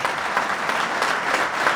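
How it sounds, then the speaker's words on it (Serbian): An audience at a political rally in Zrenjanin applauds women in the crowd, a steady dense wash of many hands clapping at close range with no voices standing out. "Aplauz za ovako lepe dame."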